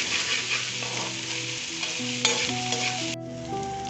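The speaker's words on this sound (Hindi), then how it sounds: "अब हम इसमें 1 चम्मच के करीब अदरक लहसुन का पेस्ट डाल देंगे और इसे भी 2 से 3 मिनट तक फ्राई करेंगे।" Ginger garlic paste sizzles with softened onions in a pan, a steady loud frying hiss with stirring scrapes and a utensil clink, no voices.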